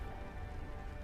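Soft, steady rain patters evenly and fairly faintly, with no voices over it, as ambience in an audiobook scene set outdoors near a river.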